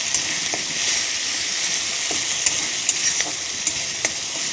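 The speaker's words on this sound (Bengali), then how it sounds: "মশলা যত কষানো হবে" Spices for a loti (taro stolon) curry stir-fried in a pan, a steady bright sizzle broken by a few soft scrapes of a spatula, close and continuous with no voices.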